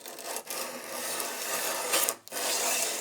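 Rasping strokes of 120 grit abrasive sanding a butcher's knife blade, a steady scratchy rub broken by two short pauses, close and fairly loud with no talk.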